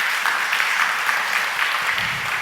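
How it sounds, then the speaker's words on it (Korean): A church congregation at a Sunday worship service claps in thanks, a brief, steady burst of applause filling the room without voices. "감사의 박수를 드리겠습니다"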